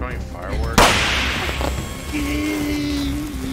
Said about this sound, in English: Throwing fireworks.